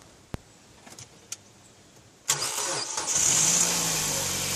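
A 1.6 litre Mazda 2 engine, boosted by a portable jump pack, cranks and fires after a few faint clicks, then settles into a steady close idle with a brief high whine.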